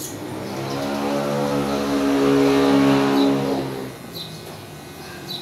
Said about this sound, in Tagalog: Mahagok lang pala motor niya, no?